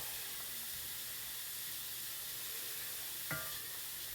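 Spices and celery seed sizzle in a pan, a soft steady hiss of frying with one brief clink of a utensil near the end.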